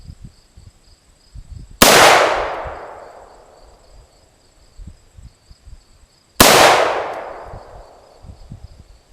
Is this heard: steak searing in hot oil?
no